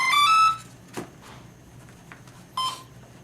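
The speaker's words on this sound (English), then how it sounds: "So that's the ESC beeping," An ESC on an RC F-16 50mm EDF jet gives a short series of electronic beeps, a quick tonal chirp at the start and another near the end, with faint background noise between.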